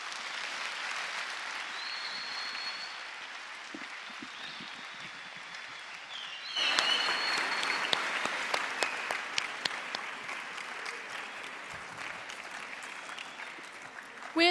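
An audience gives sustained applause to a guest speaker, Dr. Dale Clemens, at a talk; the clapping runs continuously and swells noticeably louder and crisper partway through before carrying on to the end.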